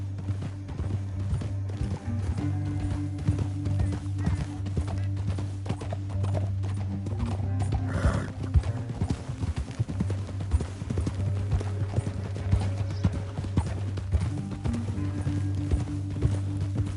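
Horse hooves gallop steadily through a canyon in Red Dead Redemption 2, a continuous rapid clip-clop rhythm that stays close and loud for the whole stretch, with a low steady hum beneath and a brief whinny partway through.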